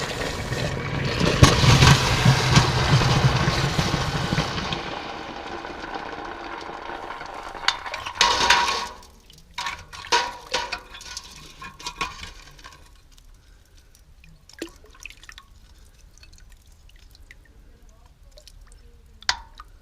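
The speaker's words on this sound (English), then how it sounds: "Now we put this hot mold with the bronze in water." A loud, steady sizzling hiss as a hot lost-wax casting mold holding bronze is plunged into water, a second sharp burst of hissing, then faint crackles and drips.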